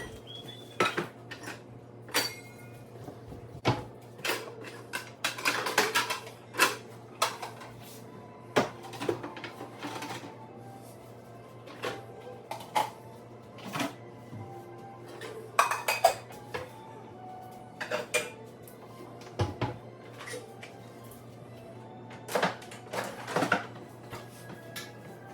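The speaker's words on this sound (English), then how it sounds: "So I'm just going to be putting away all of those clean dishes from earlier today" Clean dishes and cutlery are put away in a home kitchen, with repeated clinks and clatters of plates and silverware plus occasional cupboard or drawer knocks, fairly close, over a faint steady hum and with no talk.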